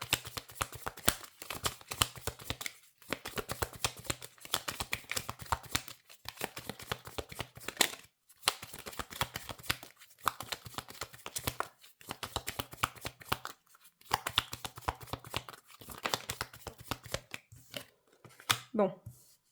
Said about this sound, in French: Alors, on va tirer une carte pour la consultante.